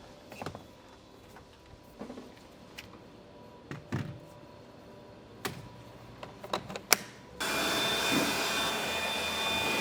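Scattered knocks and handling thumps give way to a sudden loud, steady rush of compressed air blowing dust off a sink countertop during a van conversion build, continuing to the end.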